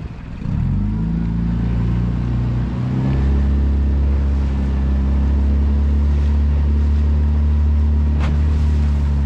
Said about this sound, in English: we're starting to ride the crest of the waves now, coming in